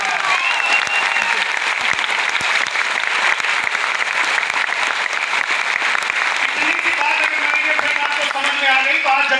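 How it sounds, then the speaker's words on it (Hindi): An audience claps at a motivational talk, with dense, loud, continuous applause from a large crowd filling the room, and a voice briefly rising over it near the end. "ताली बजाओ"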